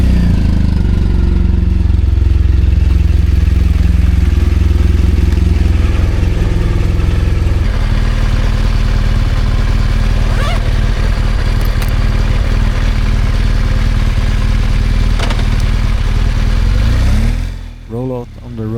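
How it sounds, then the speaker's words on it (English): A motorcycle engine runs close by at a steady, loud idle with a rumbling low throb that holds for most of the stretch, then the sound shifts and breaks off near the end. "start the bike"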